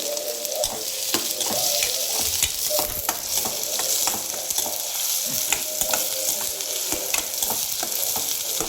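Chopped onion fries in a pan until reddish brown, sizzling steadily while a spatula scrapes and stirs in frequent strokes, close and fairly loud with no talk.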